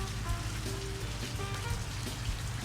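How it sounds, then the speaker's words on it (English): Steady rain pours outdoors, a dense continuous hiss with scattered drops pattering on a nearby surface throughout. "getting out in the rain here is good for the balance"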